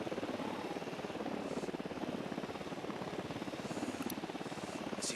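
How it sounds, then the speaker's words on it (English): Helicopter flying in the video game Ghost Recon: Wildlands, a steady rhythmic rotor chop with a buzzing engine drone holding at even, fairly distant level throughout, with no voices. "there's a helicopter"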